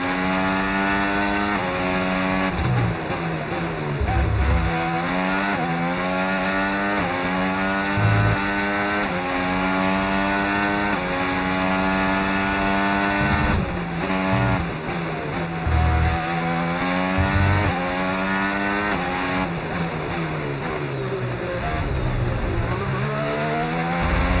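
A Formula 1 car's engine screams in F1 2025 at the British Grand Prix at Silverstone, with a sustained loud, high-revving whine that repeatedly climbs through the gears and drops on downshifts, steady throughout with no talk.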